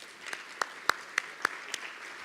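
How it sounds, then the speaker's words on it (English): Sparse, quiet applause for an award winner at an education conference in Miami: about half a dozen distinct claps spaced out over two seconds against soft room hiss. "please come forward and let's give her a round of applause"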